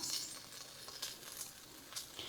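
Butter sizzling in a hot skillet ready for mushrooms, a soft crackling hiss with small irregular pops and spits, fairly quiet and close with no talking.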